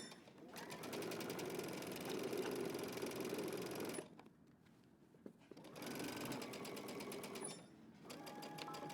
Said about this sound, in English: we're going to go ahead and stitch around our pocket